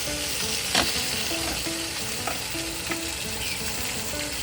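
Fish frying in hot oil in a home kitchen, a steady dense sizzle with scattered pops and spatters throughout, fairly close and continuous with no talking.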